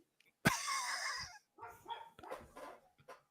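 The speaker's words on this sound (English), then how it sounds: "Sorry, y'all. That's my dog." A pet dog barks once loudly and close indoors, followed by a string of softer yips and whimpering barks, with no talking.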